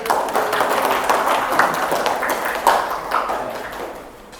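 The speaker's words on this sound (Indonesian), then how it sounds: "Tepuk tangan dulu kalian" A crowd of students clapping steadily and continuously in a classroom, dense applause filling the room with a few louder claps standing out.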